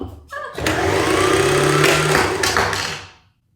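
A sewing machine winding a bobbin with purple thread, its motor whirring loudly and steadily for about three seconds after a few soft clicks, then cutting out abruptly.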